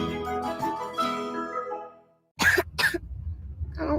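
A child coughs several times in quick, harsh bursts after a stretch of talking, then a lighter cough or throat sound follows, close and fairly loud.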